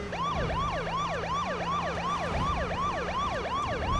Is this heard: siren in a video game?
yes